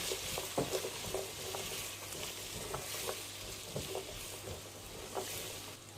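Chopped cabbage, sweet corn and capsicum sizzling in a hot pan while being stirred, with a steady frying hiss and repeated spatula scrapes and taps in an irregular rhythm.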